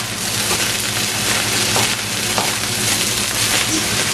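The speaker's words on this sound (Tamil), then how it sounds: "இந்த ஃப்ரைட் ரைஸ் வந்து கொஞ்சம் முருகி வரைக்கும் இப்படி சத்தம் கேட்கும்." Sri Lankan-style fried rice sizzles loudly and continuously in a pan as it crisps, a dense close hiss with scattered crackles and stirring scrapes.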